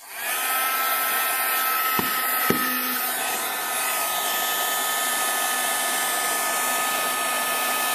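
A heat tool blows steadily and loudly over embossing powder on a card laid on a craft mat, a continuous whooshing fan hum with two brief knocks near the start.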